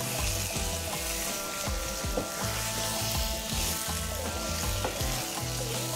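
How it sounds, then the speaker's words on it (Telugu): Vanjaram fish frying in a pan with ginger-garlic paste and onions makes a steady, close sizzle, with intermittent scraping and stirring knocks of a utensil across the pan, and no talking. "ఈ అల్లం వెల్లుల్లి పేస్ట్, ఉల్లిపాయలతో పాటు ఈ చేపను కూడా బాగా వేపుకోవాలండి"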